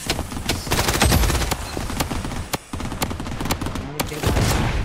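Rapid bursts of automatic gunfire and single shots in the online battle royale shooter BloodStrike, loud and dense throughout with brief pauses, mixed with explosions and faint voices.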